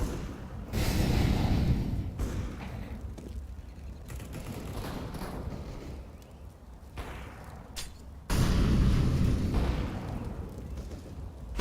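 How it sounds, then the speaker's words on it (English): A Molotov cocktail thrown and bursting into flames in a CS:GO-style shooter game, heard as a deep roaring burst followed by sustained crackling fire rumble, with a second loud flare-up later amid muffled battle noise. "Throwing a Molotov."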